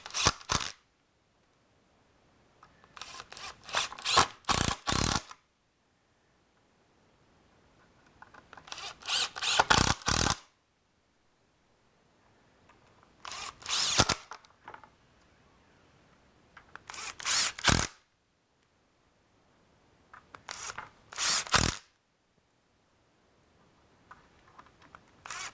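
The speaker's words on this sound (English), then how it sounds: "finish putting this tool together by filling the rest of these holes up with 1 1/4 screws" A power drill drives 1 1/4 inch screws into a wooden Spider Tie alignment tool, in six close, sharp bursts of whirring with quiet pauses between them.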